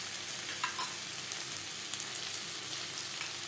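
Onion and tomato frying in a pan with ginger and green and ripe chili paste added, a steady close sizzle with faint spatula scrapes as the mixture is stirred.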